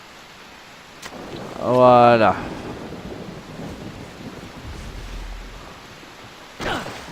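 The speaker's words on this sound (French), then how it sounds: "il pleut" Rain falls and thunder rumbles across the Far Cry 3 game world, with a steady wash of rain throughout and a low rolling rumble midway, while someone talks briefly over it.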